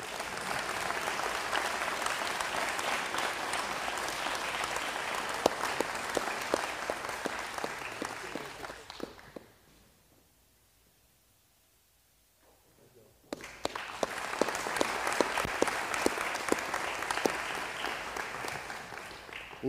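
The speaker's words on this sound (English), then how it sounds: "one final round of applause for all of the nominees and winners tonight" An audience at the 2023 Tip Colley awards ceremony applauds a winner with dense, sustained clapping. The applause fades into a few seconds of near silence, then a second full round of clapping rises, with faint crowd murmur underneath.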